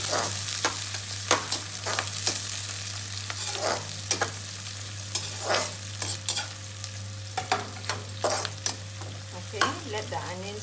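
Onions and green chili frying in a pan for mutton liver masala, with a continuous sizzle broken by repeated close, sharp scrapes of a spoon stirring them at an irregular pace.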